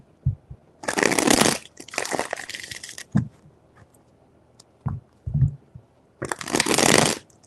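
Tarot cards are shuffled in three distinct bursts of crisp riffling, close and loud, separated by quiet gaps with light handling taps.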